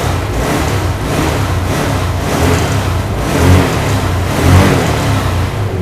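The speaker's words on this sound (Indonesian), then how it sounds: "Mesin juga udah halus sih menurut saya." A Yamaha Mio scooter engine revs loudly and close up, holding a steady mid-pitched drone that swells twice with throttle blips, with no talk.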